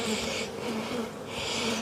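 Honey bees buzzing around an open beehive during a queen check, a dense close drone that swells loud, dips briefly in the middle, then rises again.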